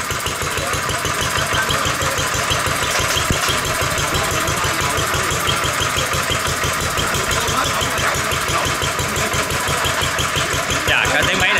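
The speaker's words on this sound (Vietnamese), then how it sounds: "cái tiếng máy này nghe chất lượng dữ ha." A 1950 antique engine on a Vietnamese vintage machine runs loud and close, with an even, rapid beat of firing pulses that holds steady for the whole stretch.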